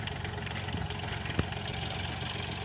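A small Sonalika 20 tractor idles in a cleared farm field, its engine a modest, even low chug with a brief knock partway through, fairly quiet and unaccompanied by talk.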